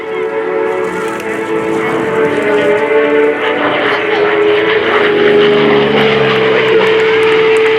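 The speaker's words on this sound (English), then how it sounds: "stand and make some noise as Mark and the Corsair come around from the tower." An F4U Corsair propeller plane roars past nearby at an airshow, its engine drone steady and loud with a shifting tonal whine, while a voice talks over it.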